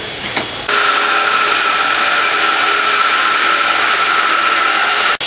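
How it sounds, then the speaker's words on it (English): A power tool runs steadily on metal brackets for a log cabin, drilling holes and cutting metal; after a brief start it holds a loud, even high whine for several seconds, then cuts off abruptly. "We're drilling holes and cutting metal."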